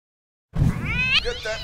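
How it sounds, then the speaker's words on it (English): A cartoon cat lets out a loud, close meow with a rising then falling pitch after a moment of silence, set in an animated Christmas episode. "Get that cat away from me!"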